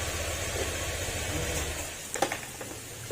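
A Honda Click 125 scooter engine with a noisy, metallic rattle idles close by, a fast even clatter like metal striking metal, with a few sharper knocks near the end.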